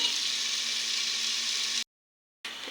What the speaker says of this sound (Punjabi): ਆਪਾਂ ਜੀ ਹੁਣ ਪਿਆਜ਼ ਨੂੰ ਭੁੰਨਾਂਗੇ